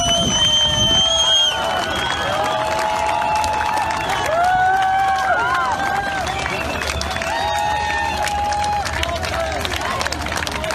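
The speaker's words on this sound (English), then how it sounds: "So here they are showing up, getting applause." A crowd of protesters in the Netherlands cheering and clapping outdoors, with shouts and whistles rising over a steady roar of voices, sustained throughout.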